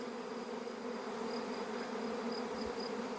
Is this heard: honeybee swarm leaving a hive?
yes